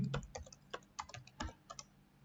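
Quiet clicks from a computer keyboard, about a dozen keystrokes in short irregular bursts, close and with no talking.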